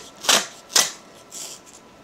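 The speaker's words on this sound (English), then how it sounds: "Let me try another piece of tape and see where I end up." A strip of tape is peeled and handled on a product photography set, giving two quick crackling rips close up, followed by softer rustling.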